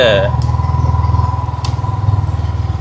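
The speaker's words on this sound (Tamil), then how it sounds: "வாகன சத்தம், பைக் ஓடுற சத்தம் கேட்டதா?" A motorcycle engine runs close by with a steady, pulsing putter, idling evenly throughout.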